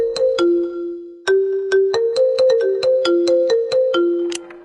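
An Apple phone ringtone: a bright, marimba-like melody of short plucked notes in a quick, bouncing rhythm, loud and close, playing alone for several seconds.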